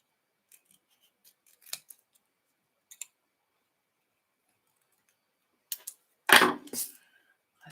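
Scissors snip through a papercraft piece with a few sparse, crisp cuts, then a louder cluster of slicing snips near the end, close and otherwise quiet.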